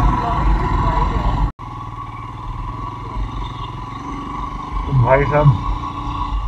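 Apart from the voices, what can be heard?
motorcycle ride on mountain road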